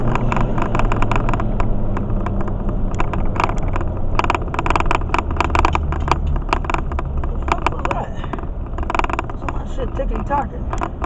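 Car cruising at speed on a highway toward a bypass, with steady loud road and engine rumble throughout as a person talks over it.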